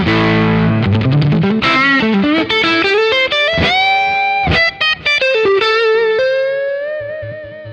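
Awesome Artist AS72 HSS electric guitar played through its neck pickup with a distorted, effects-laden tone, sustained melodic notes and bends ringing loudly alone with no talk, fading out at the end.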